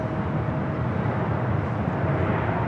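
A United Airbus A321neo airliner arriving at LAX, a steady broadband engine roar with a constant low rumble, moderately loud and unbroken throughout.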